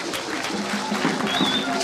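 Audience applause at a public event on violence against women in Adiaké, a dense steady patter of many hands with crowd murmur and a voice over a loudspeaker running beneath it.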